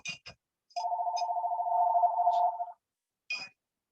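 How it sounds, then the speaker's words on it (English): A telephone gives one long, warbling electronic ring lasting about two seconds, with a few faint clicks before and after it in an otherwise quiet room. "Ignore the phone."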